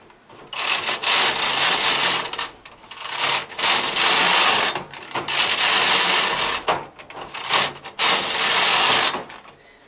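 A Bond knitting machine being worked for an e-wrap cast-on, its carriage rasping back and forth in loud, steady sliding passes separated by short pauses.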